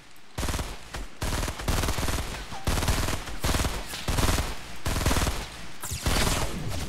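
Rapid automatic gunfire from the Fortnite Battle Royale video game rattles in long, loud bursts with brief gaps, close and dominant throughout.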